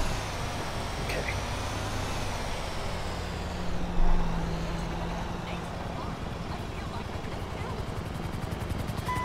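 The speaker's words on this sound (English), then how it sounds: "Don't you take that helicopter." A helicopter in the video game GTA Online gives a constant, dense rumbling whir that runs throughout, mixed with other vehicle and engine noise.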